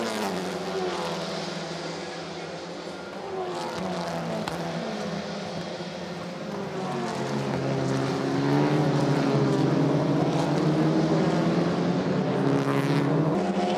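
TCR touring cars race at the Hungaroring in 2017. Their engines form a continuous droning roar with shifting harmonic pitch that grows louder and rises toward the end, with no talking.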